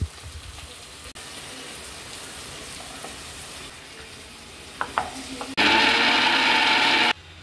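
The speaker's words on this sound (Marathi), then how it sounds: "आपण अद्रक लसूण आणि कांदा टमाट्याची पेस्ट करून घेऊ" A mixer grinder blends ginger, garlic, onion and tomato into a paste: one loud, steady whirring burst of about a second and a half near the end, after quieter kitchen background.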